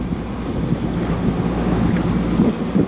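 Wind buffets a sailboat at sea on the Mediterranean coast of France, loud gusty rushing close to the microphone with low rumbling swells and water noise beneath.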